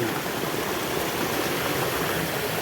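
Water runs down a small stream on its way to a spring, a steady, even rushing that stays close and fills the whole moment with no voices.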